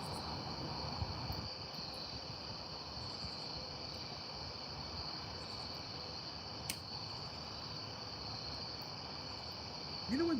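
Crickets chirp in a steady, continuous high trill filling the background, moderately faint under a low broadband hiss, with a couple of brief clicks.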